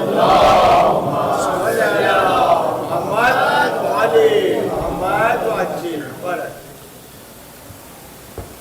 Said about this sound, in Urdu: نعرے حیدری، امام زمانہ بلند تر صلوات